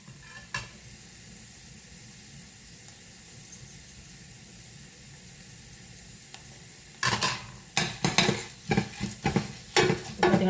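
Curry leaves fry in hot oil for a ven pongal tempering: a low sizzle at first, then sharp bursts of crackling and stirring clatter arriving in uneven spurts.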